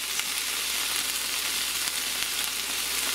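Pot roast meat sizzling loudly and steadily in a hot pan as pieces are flipped over, a dense, continuous frying hiss with no talk over it.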